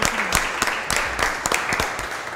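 Brief applause during a class session, a small group clapping in a room with uneven, distinct hand claps over a couple of seconds.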